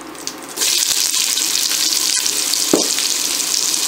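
Onions drop into a hot pan after the chicken pieces come out, setting off a sudden loud, steady sizzle with a faint scrape near the end.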